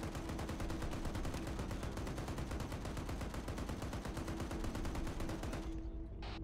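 A .50 cal machine gun hammers out a long, even stream of rapid shots in a military video game, close and loud, then cuts off abruptly near the end.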